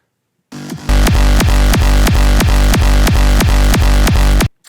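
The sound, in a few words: kick drum tail through volume shaper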